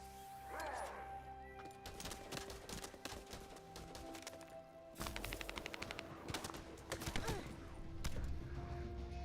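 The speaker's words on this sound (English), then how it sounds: "Who the fuck is shooting at me?" Bursts of gunfire from a shooter video game crackle in rapid automatic volleys and single shots, dense and loud, mixed with other game effects.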